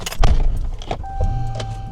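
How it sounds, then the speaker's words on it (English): A truck is started and eased forward during trailer repairs, giving a low engine rumble with a steady hum, mixed with clanks, jangling and door or window clatter close by. "Gotta move the truck forward."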